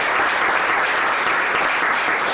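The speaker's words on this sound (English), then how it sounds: "Let's give her a round of applause." Applause from a small crowd gathered in a private home at a political campaign event, steady dense clapping filling the space without a break and no voices over it.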